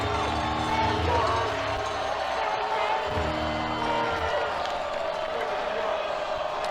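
Crowd at a Texas vs Mississippi State men's college baseball game stirring and cheering in the stadium, a broad roar running beneath a commentator's steady talk.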